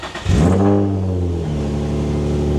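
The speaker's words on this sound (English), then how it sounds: "All right, let's give this a start and see if we have any leaks." A Nissan 350Z engine cranks, catches and revs up close after an exhaust gasket repair, then settles into a steady, loud idle.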